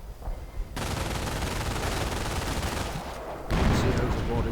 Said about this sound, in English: grenadiers getting suppressed by the MG42